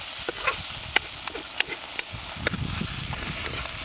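Onions and tomato sauté in a kadai, a soft sizzle punctuated by sharp, irregular spatula clicks and scrapes against the pan, close and without talk.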